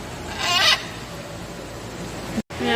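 Pet parrot vocalizing indoors, a short loud squawk with warbling harmonics early on, followed by quiet room background and a faint later call.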